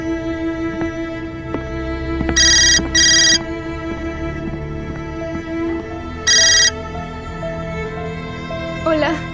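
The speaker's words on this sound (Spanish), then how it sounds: "¿Es el teléfono de mamá?" A telephone rings indoors in two bright electronic bursts, the first a pair of short trills and the second a single trill about four seconds later, amid quiet room sound and faint voices.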